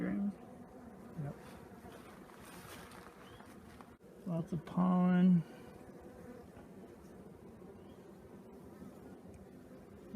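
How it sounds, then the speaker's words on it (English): Honeybees at an open backyard hive, worker and drone bees, give a steady low buzzing hum throughout, with a person speaking briefly over it and a louder burst near the middle. "Hopefully you're familiar with the two types of bees so far, the worker bees and the drone bees."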